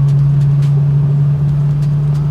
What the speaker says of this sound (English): Alright, we're driving away now.